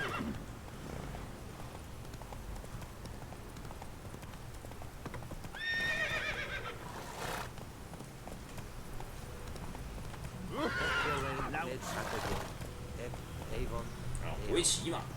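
Roach the horse in The Witcher 3, steady clip-clop of galloping hooves with two loud whinnying neighs, under a man's occasional speech.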